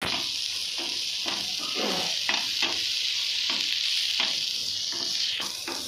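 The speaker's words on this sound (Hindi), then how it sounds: "प्याज को अच्छे से भूंज लो।" Onions sizzle and fry in a pan for a prawn curry, a steady close hiss with repeated stirring scrapes, no talking.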